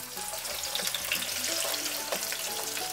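Chicken pieces, skin side down, brown in oil over medium-high heat in a heavy-bottomed pot, giving a dense, continuous hiss and crackle of frying up close.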